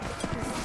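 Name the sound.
horse galloping in Mount&Blade Warband video game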